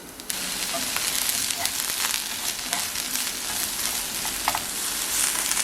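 Mushrooms sizzle in a pan heated on high, a bright, steady crackling hiss with scattered pops and a few stirring scrapes, faint and unbroken with no talking.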